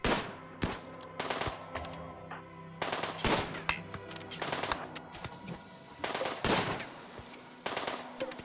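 Rapid bursts of gunfire hitting a wooden wall and a shield belt in the video game RimWorld, loud clustered volleys repeating every second or two with brief gaps, no talking.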